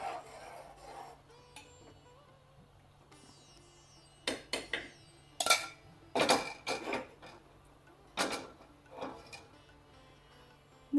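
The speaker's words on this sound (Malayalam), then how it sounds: "അല്പം തവിയൊക്കെ ഇട്ട് ഇളക്കാം" A ladle stirs fish curry in a pot of boiling red chilli and coriander masala, giving sharp metallic scrapes and clinks in short bursts against a quiet background.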